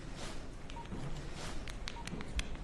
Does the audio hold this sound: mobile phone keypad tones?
yes